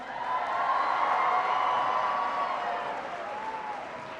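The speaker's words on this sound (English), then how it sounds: "give him a big round of applause" A school audience applauding and cheering as a retiring speaker is honored, a steady dense wash of clapping that swells and then slowly fades, with a faint voice or whoop drifting over it.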